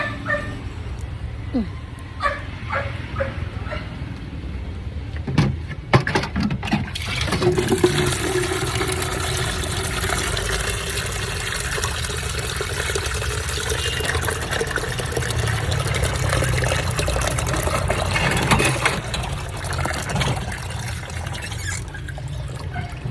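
A dog whimpers and yips while water is poured for it, the sound of liquid running steadily at close range, with brief talk over it.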